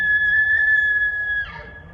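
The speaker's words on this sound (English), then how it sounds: "that sound was the bull elk bugling." A bull elk bugles, a high, clear whistling call holding steady for over a second, then breaking off and fading, with faint low rumble underneath.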